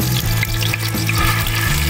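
Peanuts fry and sizzle in a pan with garlic, a continuous close, loud hiss with rhythmic scraping as the pan is stirred.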